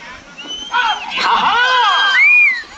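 A crowd yells and cheers close by at a prize competition in Garladinne, Anantapur, with rising whoops and shouts layered over one another in a continuous excited roar.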